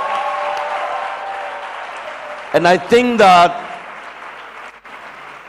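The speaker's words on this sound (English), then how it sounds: "let's give him a big round of applause" Audience applause at a formal public event, a dense steady patter running under a man's speech and fading out before a short louder burst of voice near the middle.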